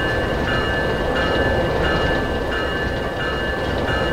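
A train rumbles steadily along the track in the Garry's Mod video game, loud and continuous, with faint rhythmic clicking and a thin high tone running through it.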